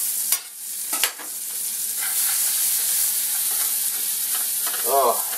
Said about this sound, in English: Put your onion and your mushroom right in there.